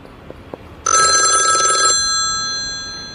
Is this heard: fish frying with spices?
no